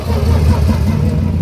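An AC Cobra sports car drives past at Silverstone, its engine a loud, steady mid-pitched roar heard up close through the whole moment, with no one speaking.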